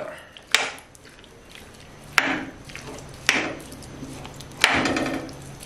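A utensil scrapes and clanks against a metal pressure cooker in several sharp knocks spaced a second or so apart, with quieter stirring scrapes of a meat mixture between them.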